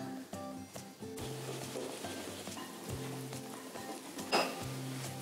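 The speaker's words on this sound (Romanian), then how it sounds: "Mai departe încorporăm făina pe care am amestecat-o cu praful de copt, puțin câte puțin, cernem puțin și amestecăm." Sifted flour and baking powder being folded by hand into an orange-juice and cocoa cake batter, a soft, steady wet stirring and scraping texture that runs quietly throughout with faint background tones, no voices.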